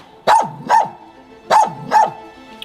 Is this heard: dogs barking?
yes